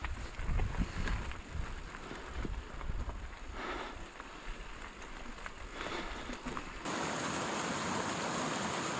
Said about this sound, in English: That waterfall is really cool though, isn't it?